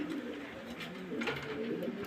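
Pigeons, including Pakistani and jhakgola breeds, coo steadily and fairly close with low, rolling calls layered over one another for the whole stretch, no voices present.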